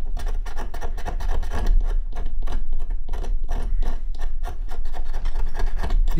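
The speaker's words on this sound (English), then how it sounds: "You could use whatever you want to scrape it off, but using the razor blade that I got with me." Razor blade scraping a patch off a Daytona airsoft gun's hop-up, a rapid series of close, rasping strokes repeating steadily and loud, with no talk over it.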